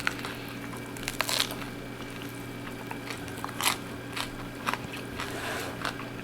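Someone bites into an oily slice topped with tomatoes, mozzarella and raw garlic. The crunchy bites and soft chewing are close but faint, with sharper crunches coming in irregular bursts.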